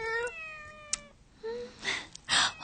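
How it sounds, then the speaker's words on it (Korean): Cat meowing as a sound effect in a radio drama, a clear close meow with rising and falling pitch, then further short mews and quick rustly bursts. "고양이가 배 많이 고팠나 보다."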